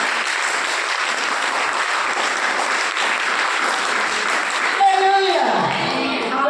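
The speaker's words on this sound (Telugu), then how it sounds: "గట్టిగా చప్పట్లు కొట్టాలి" A church congregation claps hard in a steady, dense roar of hands for several seconds, then the clapping thins out as a voice and tonal sound come in near the end.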